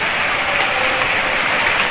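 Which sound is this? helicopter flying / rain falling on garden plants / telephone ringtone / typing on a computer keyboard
rain falling on garden plants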